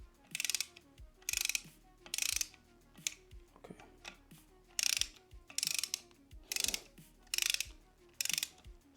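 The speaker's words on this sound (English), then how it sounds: "It's gonna go little by little. It's having to get through all that Loctite. You can feel it kind of like fighting it a bit. You can even kind of hear it" A ratchet wrench tightens the camshaft bolts on a BTR Stage 2 v2 cam install, fighting through threadlocker in repeated bursts of close, rapid clicking, about eight strokes separated by short pauses.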